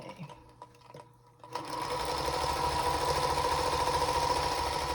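Domestic sewing machine chain piecing charm square fabric blocks, starting after a few soft clicks and then running in a fast, steady, close-up mechanical whir.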